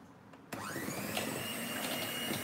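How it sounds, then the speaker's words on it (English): After a brief quiet moment, an electric mixer starts on its lowest setting to whip cream and then hums steadily, a close, even whir. "So we're going to start whipping the cream. We're going to start really low."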